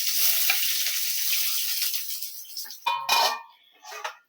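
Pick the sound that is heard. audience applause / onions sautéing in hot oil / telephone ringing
onions sautéing in hot oil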